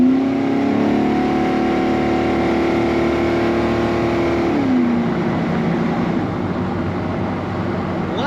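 A 1981 GMC C1500 pickup truck with an automatic transmission accelerates hard, its engine holding a loud, strained note before a gear change drops the pitch and the drone carries on steadily.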